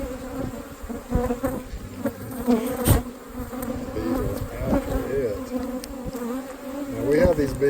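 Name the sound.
bees buzzing around a hive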